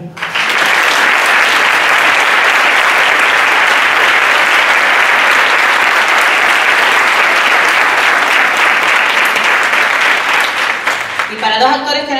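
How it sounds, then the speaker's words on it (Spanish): An audience at a copla song festival bursts into loud, sustained applause, dense clapping lasting around eleven seconds before fading as a voice starts speaking at the end. "Me gustaría también pedir un fuerte aplauso para una joven que se lo está currando, que se lo merece,"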